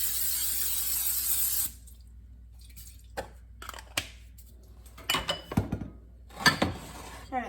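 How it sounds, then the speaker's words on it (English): A can of cooking spray hisses onto a baking dish in one loud burst lasting under two seconds, then stops, followed by scattered clinks and rustles of handling the pan. "we are going to spray the baking dish with the cooking spray"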